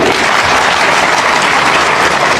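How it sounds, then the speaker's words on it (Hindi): Sustained audience applause fills a hall during a talk on law in India, a dense steady roar of many hands clapping at once, loud and continuous with no voices over it. "ताली बजाइए माननीय जज साहब के लिए"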